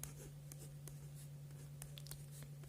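Pen or pencil writing an equation by hand on paper during a maths lesson, faint scratchy strokes in short bursts over a steady low hum, no talk.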